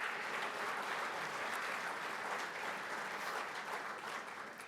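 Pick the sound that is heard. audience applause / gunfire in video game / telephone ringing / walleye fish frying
audience applause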